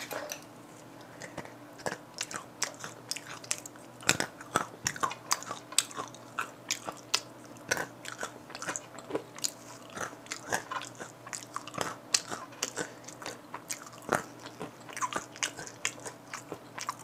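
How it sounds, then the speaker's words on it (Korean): Crunchy, extremely spicy peanuts said to rate 1.3 billion Scoville are bitten and chewed up close, with sharp crunches and crackles repeating in an irregular rhythm throughout and no talking. "이번엔 3단계 먹어볼게요."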